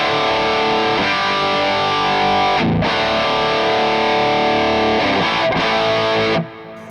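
Heavy distorted electric guitar riff run through a Quad Cortex preset, loud and crushing, with chugging palm-muted rhythm and brief gaps, stopping abruptly near the end.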